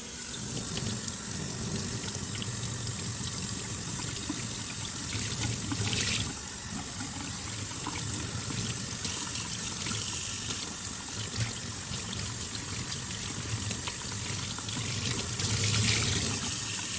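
Running water rinsing a dirty, oil-soaked filter, a steady unbroken rush and spatter that holds at an even level throughout, close by and with no talking.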